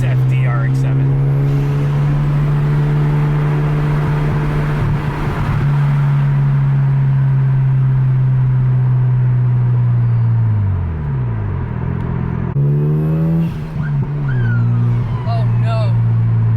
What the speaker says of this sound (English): there's nothing like a night drive in a nice FD RX-7